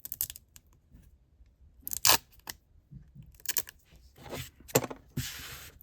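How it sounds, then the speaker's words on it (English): Wallpaper being cut with scissors for a notepad booklet craft, a series of sharp snips and crisp rustles close by, scattered irregularly across a quiet background. "It's too small, so I need to cut it from this side."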